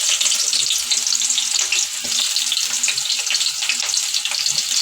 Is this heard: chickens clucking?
no